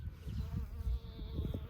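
A bee buzzes near flowers, a faint continuous droning hum with wavering pitch over low rustling background noise, heard alone without talk.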